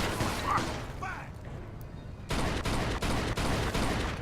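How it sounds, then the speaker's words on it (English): Gunfire aimed at the player in Mafia 2, a few scattered shots and impacts at first, then a sustained loud burst of rapid firing for the last couple of seconds. "Oh, that asshole shot me."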